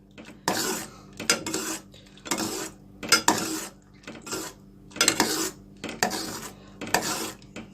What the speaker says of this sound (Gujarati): આપણે કન્ટિન્યુ સ્ટર કરતા રહેવાનું છે.